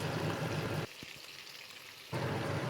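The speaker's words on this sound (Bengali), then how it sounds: "পোস্তটা ঝিঙের সাথে অল্প ভেজে নেব।" Poppy seed paste fries with ridge gourd in a pan, giving a loud, close, crackling sizzle that drops away for about a second in the middle before resuming at full strength.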